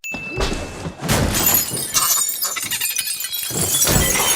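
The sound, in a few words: glass breaking in Fantastic Beasts movie scene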